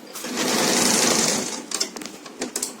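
A sewing machine stitches elastic onto pants, overlapping the ends by half an inch: a loud, close whirring run of stitches lasting over a second, then a scatter of short clicks and bursts as the machine stops and starts.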